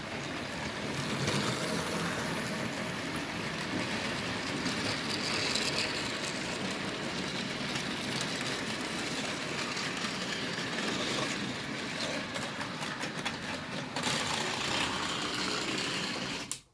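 A Bachmann GWR 2251 class model train rattles steadily along its track, a continuous whirring clatter with occasional rough bumps over a bad section, close by and fairly loud throughout.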